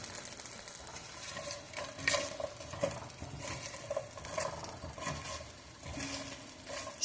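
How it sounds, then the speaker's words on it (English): Green beans cooking over medium heat in a pan with a little oil, a soft steady sizzle with occasional stirring clicks and scrapes, fairly quiet and close, with no talking. "Now I got my green beans in the pan. Gonna cook these on medium."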